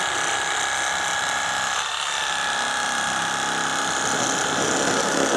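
A WORKPRO electric fillet knife runs continuously as it cuts through a catfish, giving a close, even mechanical whir with a slight rattling texture and no voices.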